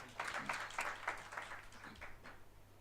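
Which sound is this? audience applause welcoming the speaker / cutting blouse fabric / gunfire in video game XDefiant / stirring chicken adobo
audience applause welcoming the speaker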